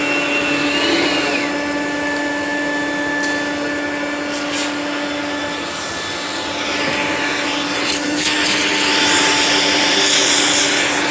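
A black Rainbow E2 vacuum cleaner runs steadily on carpet, a continuous motor whine with a strong steady hum, loud and close, swelling slightly as it is pushed and swiveled, with no talking.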